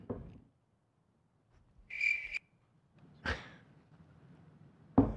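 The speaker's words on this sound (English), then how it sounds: "There's crickets in here." Brief cricket chirps break a near-silent room: a short high trill about two seconds in, then sparse sharp ticks and soft rustles with long gaps of quiet.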